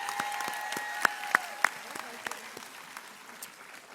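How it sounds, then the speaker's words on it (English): Audience clapping at a county schools celebration honoring educators, a thin scattering of claps with a few sharp louder hits, fairly quiet and fading toward the end, with faint voices underneath. "Let's give them a round of applause."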